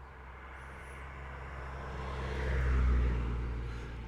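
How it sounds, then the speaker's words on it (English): A car passing by on a road, a low rumbling engine and tire noise that swells gradually to a peak and then begins to fade, heard from a distance in quiet outdoor surroundings. "We'll let that car pass."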